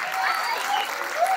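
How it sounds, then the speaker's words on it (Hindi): Brief burst of steady audience applause at a mushaira poetry gathering at Chandigarh University, a dense crowd of clapping hands heard close and loud throughout. "जोरदार तालियां हैदर साहब के लिए"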